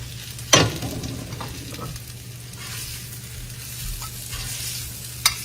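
Pork belly searing in a 650-degree cast iron skillet, a steady crackling sizzle, with a sharp clack near the start and another close to the end.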